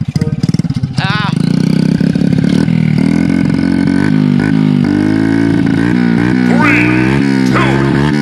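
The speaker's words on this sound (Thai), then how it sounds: "เสียงท่อแม่งอย่างแรงเลย" A Honda Wave 100 motorcycle with an aftermarket Endurance exhaust revs hard several times close by, its loud exhaust roaring and rising in pitch, while voices shout over it.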